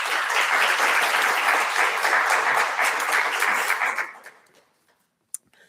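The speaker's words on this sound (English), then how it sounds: "Let's give him a round of applause." Audience applause at a college liberal arts and communication awards ceremony, a steady roomful of clapping that fills the first four seconds and then quickly fades out, leaving near silence and one brief knock.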